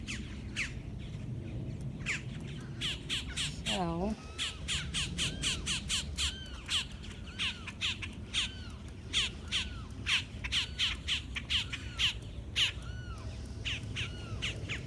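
Birds squawk and caw at a Florida lakefront park in Kissimmee, a long run of harsh, rhythmic calls close by, with one descending warble near the start and outdoor background noise throughout.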